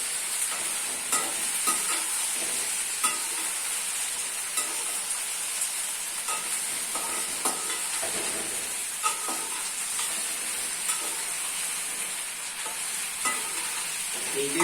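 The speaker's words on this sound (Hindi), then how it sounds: "तो इस भिंडी को इस तरह से थोड़ा थोड़ा फ्राई कर लेंगे।" Okra frying over a full high flame, a steady close sizzle and hiss with scattered stirring clinks and scrapes throughout, no voices.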